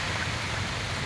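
Steady, dense hiss of rain falling without pause, close and fairly loud, with no other sounds breaking through.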